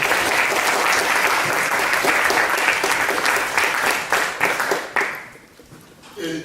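Audience applause at a solar water pumping workshop, a dense burst of clapping from a room full of people that fades off after about five seconds, with some voices underneath near the end.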